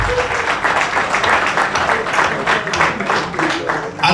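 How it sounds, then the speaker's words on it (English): An audience claps for the speaker's son at a public address by the Ooni of Ife, a dense, steady round of applause at close range lasting throughout, with some crowd noise mixed in. "Please clap for him. Clap for him."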